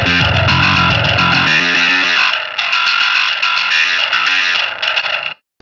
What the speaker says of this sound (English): that's your high-end distortion track.